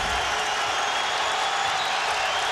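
Basketball crowd at a Providence Friars vs. Marquette college game roaring and cheering, a dense, sustained wash of voices and applause filling the arena without letup.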